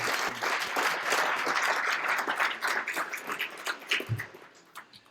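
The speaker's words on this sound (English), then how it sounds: "So can we give them a round of applause too?" An audience at an alumni awards and athletics hall of fame dinner claps for the catering staff, steady dense applause from a large crowd that swells and then thins out over about five seconds.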